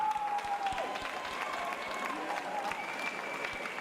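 An audience claps and cheers for two fighters in the cage at an Almighty Fighting Championship event, with steady applause from a crowd at a distance.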